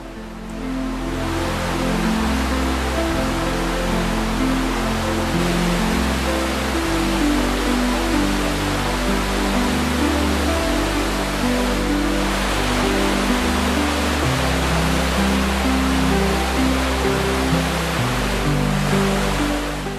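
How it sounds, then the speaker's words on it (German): Breitach river rushing through the narrow Breitachklamm gorge, a loud, steady roar of churning whitewater that fills the whole stretch without pause. "da wallet und siedet und brausen und zischt das Wasser der Breitbach durch die enge Schlucht"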